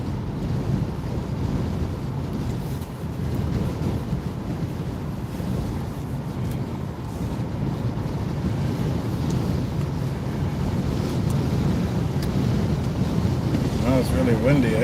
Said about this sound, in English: Oh, it's really windy, eh?